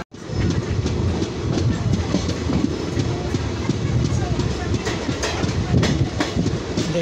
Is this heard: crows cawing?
no